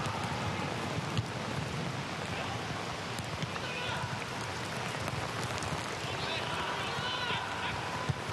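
Heavy rain pours down on the Weser Stadion in Bremen during a Werder Bremen versus Wolfsburg football match, a dense, steady hiss filling the whole stretch, with faint crowd murmur and voices beneath.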